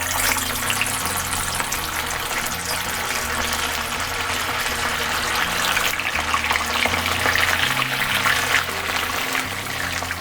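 Wheat chaap deep frying in hot oil gives a loud, dense, continuous sizzle and crackle that holds steady throughout, close up and with no voices.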